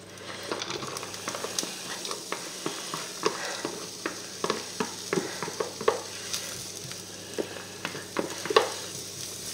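Onions browning in a pan, a soft continuous sizzle with occasional scraping stir strokes and light taps of a utensil, close and fairly quiet with no voices.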